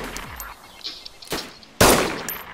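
Gunfire in the survival game DayZ: a sharp shot snaps out midway, then a louder, nearer shot follows and rings down, against faint ambient noise.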